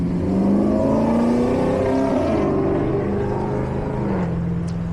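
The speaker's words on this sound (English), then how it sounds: "I think that's a V6 Camaro." A V6 Camaro engine rumbles past nearby, its pitch rising and then dropping as it goes by, loud and continuous with no voices.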